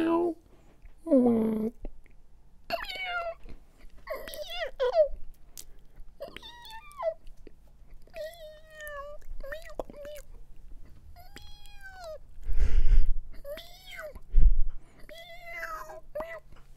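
A voice imitates a string of cat meows, soft and close, with short pauses between each drawn-out mew.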